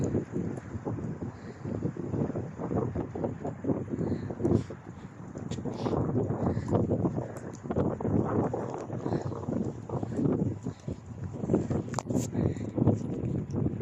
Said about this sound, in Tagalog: They have a strong wind today because it's windy.